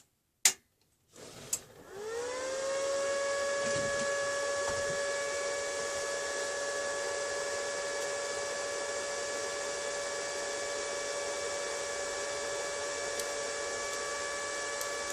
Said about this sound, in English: when I power it up, it should thread the wire through when I pull the trigger